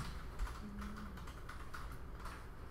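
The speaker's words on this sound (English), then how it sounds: "I will type picture frame here" Fingers type on a computer keyboard, a quiet, close run of soft clicking keystrokes in an uneven rhythm, alone without speech.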